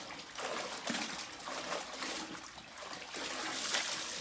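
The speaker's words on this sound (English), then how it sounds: "get the mop, dip it in the water enough" A mop is dunked and swished in a bucket of water while cleaning a greasy warehouse floor, giving a steady run of trickling, sloshing and dripping splashes at close range with no talk.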